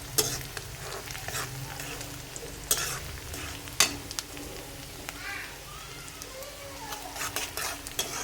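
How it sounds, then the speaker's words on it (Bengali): Garlic and onion fry in a pan for a cabbage dish, a soft, steady sizzle with occasional sharp scrapes and clinks of a stirring utensil, and a voice talking faintly at times. "এখন আমি বাঁধাকপির জন্য রসুন আর পেঁয়াজ ভাজতাছি"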